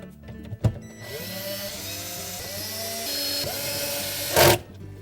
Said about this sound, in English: We'll reinstall the 6 number 20 Torx screws.